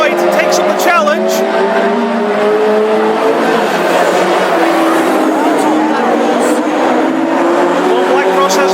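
Classic hot rod cars race around the Ipswich oval in the East Anglian Championship Final, engines whining and droning continuously with shifting pitch as several cars pass close, loud and sustained throughout.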